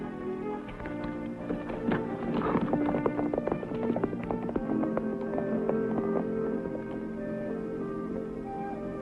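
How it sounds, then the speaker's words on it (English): A loose horse's hooves clip-clop along at a steady trotting pace in a 1940 Western film, fairly close and clear, with faint background sound and no speech over them. "Loose horse."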